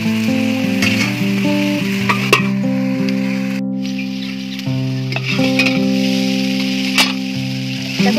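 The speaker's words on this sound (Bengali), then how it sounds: "দেখো ভাজাটা কিন্তু হয়ে এসেছে।" Chopped vegetables sizzle and fry steadily in a covered pan as they cook down, a constant soft crackle running the whole way beneath louder background music.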